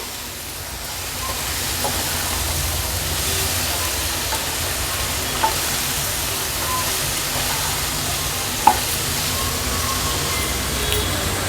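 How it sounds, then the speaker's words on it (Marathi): Brinjal sautéing in a green masala paste on the stove gives off a steady, fairly loud frying hiss throughout, with a couple of faint clicks. "वांगी ॲड केल्यानंतर व्यवस्थित ह्याच्यात आपल्याला ते परतून घ्यायचं आहे"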